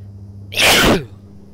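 A single loud, close human sneeze bursts out suddenly and cuts off within about half a second, alone with no talking around it.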